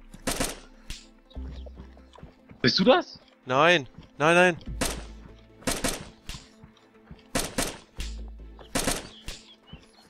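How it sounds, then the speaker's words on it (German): Gunfire in the video game DayZ, several sharp shots spread through the clip amid game noises, with people talking in German over them. "Oh, Schüsse."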